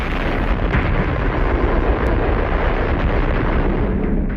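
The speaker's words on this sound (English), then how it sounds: "At 11:32 a.m. Moscow time, the bomb exploded." Deep bomb explosion effect, a loud sustained rumbling roar filling the whole span with dense low-end turbulence.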